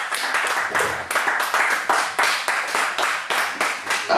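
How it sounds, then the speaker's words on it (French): Congregation clapping during worship in a church, a fast, steady rhythm of many hands beating together in unison, close and loud, continuing without pause. "Acclamons très fort le Seigneur Jésus."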